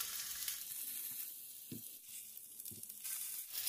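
Sausage sizzling in a pan over medium to low heat for tortilla wraps, a steady close hiss with a few soft crackles and faint pan knocks.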